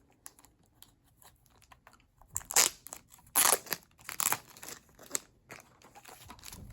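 Thin plastic baggie crinkles and rustles in bursts as it is handled and opened, up close and fairly loud, with scattered crisp crackles and short pauses between handlings; nobody speaks.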